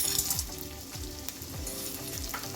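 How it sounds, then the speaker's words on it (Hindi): Pieces of gond, edible gum, fry and puff in hot fat, giving a steady close sizzle with repeated soft bubbling swells and no one speaking. "जैसे ही ये फ्राई होने लगते हैं और अंदर तक फ्राई हो जाते हैं तो ये अलग अलग से हो जाते हैं।"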